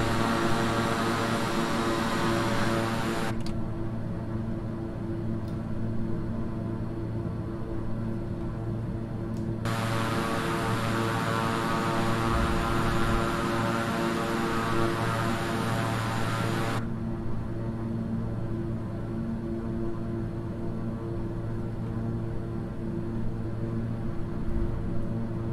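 Cockpit ambience in Flight Simulator 2020 as flaps and landing gear deploy on approach: a steady engine and airflow hum with abrupt shifts in broadband noise as the gear and flaps extend and retract, no talk.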